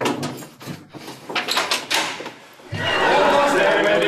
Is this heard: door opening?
yes